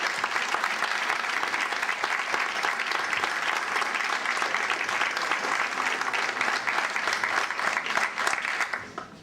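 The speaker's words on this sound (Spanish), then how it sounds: "despedimos con un aplauso y gracias por venir a la comisión" Warm, sustained applause from an audience honouring the Aldonza jota dance group in Alfafar, dense clapping continuing evenly for several seconds before tapering at the end.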